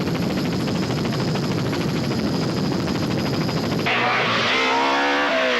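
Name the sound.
rally car driving during stage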